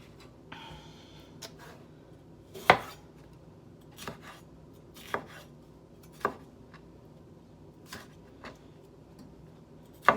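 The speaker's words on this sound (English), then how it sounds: "this is just going to be a rough chop here" A knife rough-chops vegetables for fresh salsa on a cutting board, with sparse, irregular thuds and clacks spaced a second or so apart, close by in a quiet kitchen.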